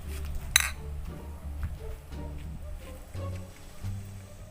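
Drinking glasses clink together in a toast, one bright sharp clink up close, followed by low background murmur and movement.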